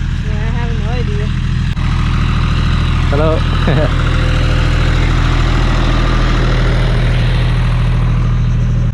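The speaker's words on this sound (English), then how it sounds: "I wonder why there's a tractor here on the sand." A tractor engine idles on the sand at Lio beach in El Nido with a loud, steady low rumble. People chat nearby over the constant engine drone.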